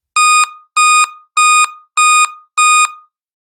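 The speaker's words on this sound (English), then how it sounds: "So that's giving us 5 beeps." Dell Inspiron 11 laptop with a real-time clock error from a dead CMOS battery sounds five loud, evenly spaced electronic beeps, close and alone, then silence.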